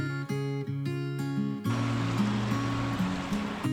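Rushing river water from the Ganges at Rishikesh in cold December, a steady broadband wash that swells in after a short stretch of tonal music, with the music continuing over it.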